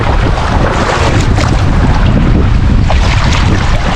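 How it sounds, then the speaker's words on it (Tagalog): Strong sea waves crash and surge around a fishing boat, with heavy wind buffeting the microphone in a loud, continuous roar and no voices. "Lakas ang alon."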